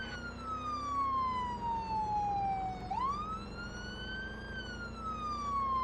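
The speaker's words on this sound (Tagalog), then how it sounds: "can you turn off your siren, please?" A police car siren wails loudly and close, a long sweeping tone falling slowly then rising again, continuous throughout over low vehicle rumble.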